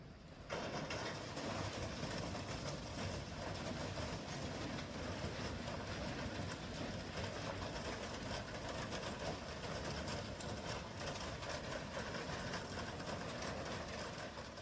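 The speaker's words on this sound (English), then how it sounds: "It takes some time for the train to come to a complete stop" A train coming to a stop rumbles and rattles steadily at a distance, a continuous wash of rail noise with faint clacking, fairly quiet throughout.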